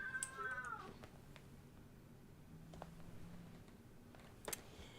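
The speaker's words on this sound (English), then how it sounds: "If you hear that sound again, it's my cat." A pet cat meows indoors, a clear drawn-out meow at the start followed by quieter vocal sounds, fainter chirps and a brief higher call near the end, heard alone without talk.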